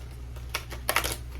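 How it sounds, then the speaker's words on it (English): Oracle cards shuffled by hand, a few quick papery flicks and taps in short bursts, close and fairly quiet. "As I'm like shuffling on top of my cards here."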